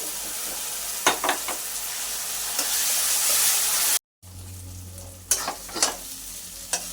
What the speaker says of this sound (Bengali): আলুটা কিন্তু ভাজা হয়ে গেছে মশলা দিয়ে